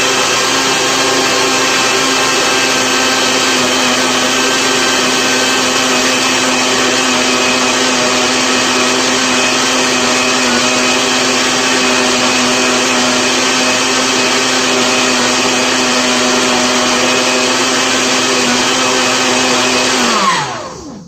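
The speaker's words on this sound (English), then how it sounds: "I'm going to put it into the blender while it's running, while it's blending." A blender runs continuously at high speed while pureeing chicken breast, a loud, steady whirring motor drone that holds constant for about twenty seconds before spinning down abruptly at the end.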